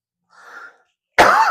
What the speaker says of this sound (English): Sorry, you can still hear me cough